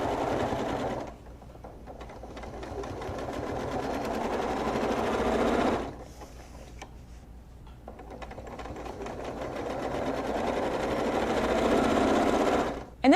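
Sewing machine quilting serpentine lines along a Squiggy ruler, running in rapid, steady stitching bursts, close and loud, with a short pause in the middle before it picks up again, and a final thump at the end.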